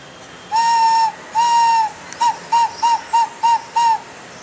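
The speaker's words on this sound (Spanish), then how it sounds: "Un caracol perfectamente puede sonar como un silbato." A conch shell blown like a whistle gives a shrill, steady tone in two long blasts, then six short, evenly spaced toots, loud and close.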